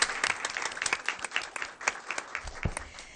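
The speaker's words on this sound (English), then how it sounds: "And let's give them a round of applause." Audience applause for educators at a school board meeting, a short burst of moderately loud, irregular clapping from a smallish room of people, with no talk over it.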